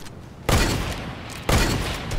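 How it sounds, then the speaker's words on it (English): Shotgun blasts in Fortnite: two loud, heavy booms about a second apart, each with a broad, dense burst that decays slowly. No one speaks. "Yeah, this is a shotgun seems to be."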